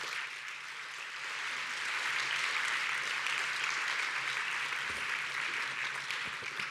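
A conference audience applauds, a dense, steady wash of clapping from many hands that swells slightly and holds for several seconds.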